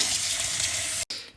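Cooked chow mein noodles being rinsed under a running cold-water tap, a steady close hiss of flowing water that cuts off briefly near the end before resuming more faintly.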